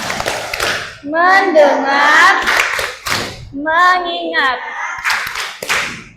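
A class of children claps out counted rhythmic patterns in bursts, with sharp hand claps alternating with group chanting voices.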